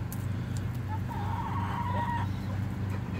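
A hen with gray and lavender plumage on her neck and breast gives soft clucking calls close by, steady over a constant low background rumble, with no talking.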